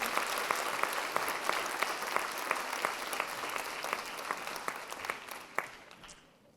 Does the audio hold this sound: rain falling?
no